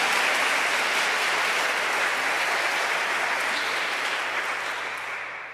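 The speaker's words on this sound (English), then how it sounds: "I think that's another round of applause." Audience applause at a volunteer organization's annual meeting, a dense sustained wash of clapping from a large room that holds steady and then tapers off toward the end.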